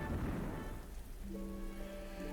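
Rain in the video game Ultra Kaiju Monster Rancher, a steady hiss of falling drops that eases slightly as faint tonal game music enters, with no voices.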